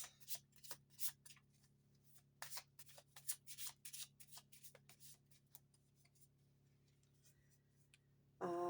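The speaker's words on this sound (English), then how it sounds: "Let's pull tarot on this." Tarot cards are shuffled by hand close up, quiet irregular riffles and soft snaps in quick bursts, then a louder sharper sound at the very end.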